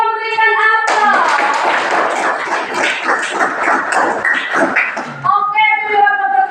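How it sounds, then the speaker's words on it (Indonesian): A classroom audience breaks into loud, steady applause, many hands clapping together for several seconds, framed by musical tones before and after. "Kita memberikan aplaus."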